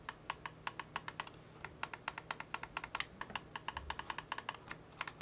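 Rapid, sharp plastic clicks in quick irregular bursts, close and fairly quiet, from a Delux M800 wireless gaming mouse button pressed over and over.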